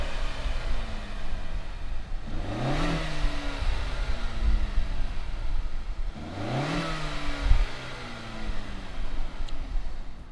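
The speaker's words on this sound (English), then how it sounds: "let's go ahead, fire up this Accord" A 2019 Honda Accord Sport with the 2.0-litre turbo engine revs hard twice, each sweep climbing and falling away, over a steady engine drone with no talking.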